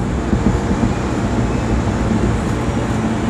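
A JR 313 series two-car one-man train departs Nakatsugawa with a steady, loud low rumble of motors and wheels on rail, continuous throughout with no talk.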